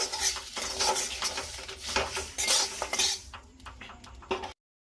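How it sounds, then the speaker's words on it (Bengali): Whole spices such as black mustard seed, carom and coriander stirred in a pan for mango pickle on a stove, with steady metal scraping and clinking of a spoon against the pan, close and continuous, ending abruptly. "সব কিছু খুব ভালো করে নাড়াচাড়া করে নেব।"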